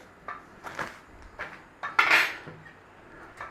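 A spoon scrapes and clinks against a pot while cocoa powder, milk, corn flour, salt and sugar are stirred together over a flame, giving a handful of irregular close metallic knocks and one louder scrape.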